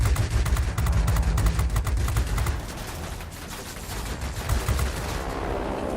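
Aircraft machine guns rattle in the video game World of Warplanes, a loud rapid-fire burst of closely spaced shots that continues in shorter clattering volleys over a steady engine drone.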